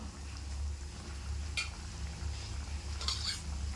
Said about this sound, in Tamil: பூண்டு வெங்காயம்லாம் நல்லா வெந்து வந்திருக்கு இப்போ நம்ம கருவாட்டு இதோடு சேர்த்துடலாம்